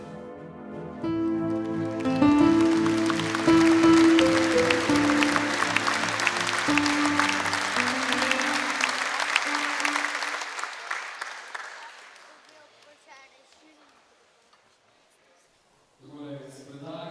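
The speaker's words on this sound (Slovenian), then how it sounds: "Za Igorja še en velik aplavz" An audience at a live stage event claps steadily for about ten seconds, the applause swelling and then fading to quiet, with a voice coming back in at the end.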